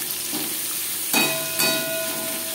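Onions sizzle in hot oil with spice tempering, a steady close frying hiss broken by a few louder scraping bursts as a spoon stirs them through the pan.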